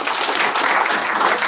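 Steady applause from an audience at a launch event honoring Dr. Heckner, dense clapping filling the room evenly and loudly from start to finish.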